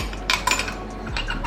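A spoon clinks against a glass while lemon juice is stirred into detox water, with several light metallic taps and scrapes close by and a steady low hum underneath.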